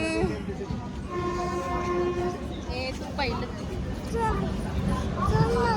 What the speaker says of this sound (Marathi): ट्रेन आली आहे आमची